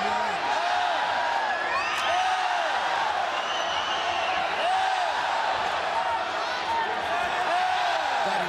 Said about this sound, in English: And the crowd loving him, swinging the legs here, listen to them every time he lands.